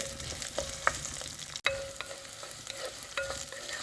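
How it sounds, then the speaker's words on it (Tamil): Fenugreek, garlic and onion fry in a pan, a steady close sizzle broken by light scrapes and clinks of stirring, with one sharp knock midway. "வெங்காயம் பூண்டுலாம் வதங்கிடுச்சு."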